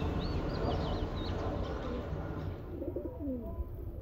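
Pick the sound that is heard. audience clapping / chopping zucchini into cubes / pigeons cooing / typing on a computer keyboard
pigeons cooing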